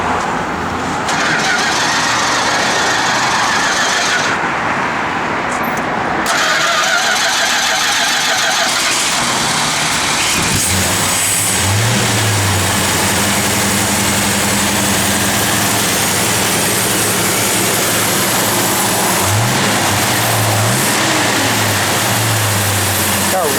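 A 1969 Plymouth GTX V8, on a blazing hot day, starts, idles with a rough rumble and revs in a few rising bursts, loud and close with some talk around it.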